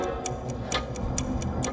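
A clock ticks in a steady even rhythm, about four sharp clicks a second, over a low background hum in a news broadcast.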